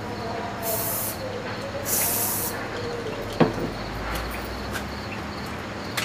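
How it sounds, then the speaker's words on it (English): Steady hissing of an aerosol spray directed into the engine intakes of an Echo water pump, a continuous broadband spray with a few brief stronger bursts and small knocks, fairly close. "Spray some into all the intakes."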